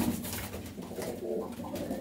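A high-flying pigeon kept in Ludhiana coos close by, its low, throaty notes rolling on and off against a faint background hum.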